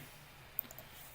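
A computer mouse gives one sharp, faint click, followed by a softer tick, as data is copied into an Excel sheet. Both sound close but quiet against a hushed room background.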